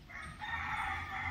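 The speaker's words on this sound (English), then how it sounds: "Look at over here, look at the roosters. And the chickens, can you see them? You can hear them for sure." Roosters and chickens crowing and clucking at a rural Kentucky homestead, a continuous loud crow filling the short stretch over a low outdoor background, with no talking.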